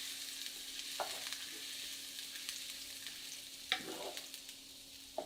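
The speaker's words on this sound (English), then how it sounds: "Add 6 grams of minced ginger and stir fry until it sizzles" Minced ginger sizzles in rapeseed oil in a frying pan, a faint steady hiss broken by a few soft stirring scrapes.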